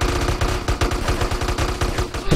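Rapid automatic gunfire from a GTA San Andreas multiplayer (SA-MP) shootout, loud and continuous bursts of shots filling the whole stretch with no talking.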